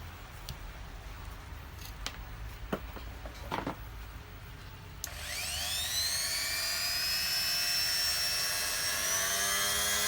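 After a few clicks and handling noises, an Ingco MG1309 mini angle grinder whirs to life midway, spinning up into a high, steady whine that holds to the end.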